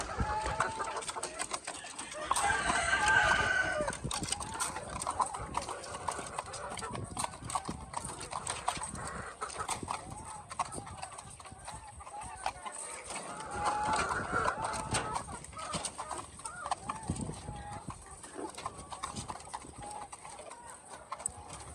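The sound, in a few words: white leghorn hens clucking at feeding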